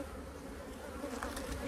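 Honey bees buzz steadily at an opened hive during a beekeeping inspection, a dense, continuous drone with no voices.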